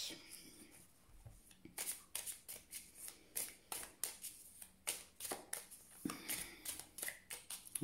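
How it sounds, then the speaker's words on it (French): Tarot cards shuffled and cut by hand, a quick run of crisp papery riffles and slaps in an irregular rhythm, close and fairly quiet, with no talking. "On va faire une coupe."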